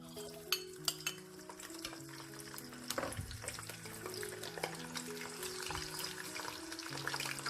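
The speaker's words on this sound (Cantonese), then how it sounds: "炸一炸呢個蒜頭，" Whole garlic cloves deep-frying in oil in a kitchen give a soft, continuous bubbling sizzle at low volume, with occasional light clinks of utensils.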